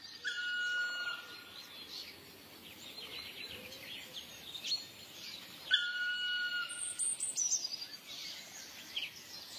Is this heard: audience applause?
no